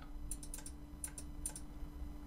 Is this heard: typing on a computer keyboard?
yes